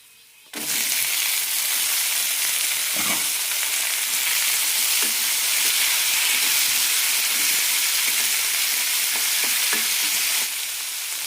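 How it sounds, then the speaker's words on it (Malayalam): Tomatoes and roasted urad dal sauté in a pan, giving a steady, loud sizzling hiss that starts abruptly and runs on with occasional stirring scrapes. "തക്കാളി നന്നായി വെന്ത് കിട്ടണം അതുവരെ വഴറ്റിയെടുക്കാം"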